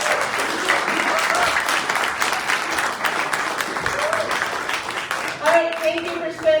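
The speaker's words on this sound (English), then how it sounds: "Give one more big round of applause for these doctors." A live audience at an evening touring event in Williams Lake, BC gives a hearty round of clapping for doctors on stage, dense and steady throughout, with voices breaking in near the close.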